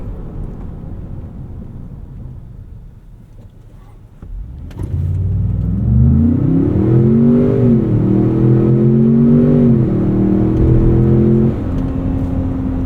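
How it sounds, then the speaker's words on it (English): A 2025 Ford Expedition Max Platinum accelerates hard from 0 to 60 uphill on a mountain road, the engine note rising loud and steady through several gear shifts after a quiet idle, with no talking. "let's crank out a quick 0 to 60"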